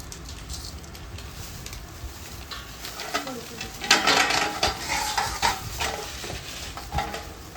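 Chopped almonds, cashews, raisins, coconut and biscuit powder are stirred into a sticky date sweet mixture in a pan, giving a steady run of soft scraping and rustling strokes, with a few louder scrapes in the middle and faint chirps in the background.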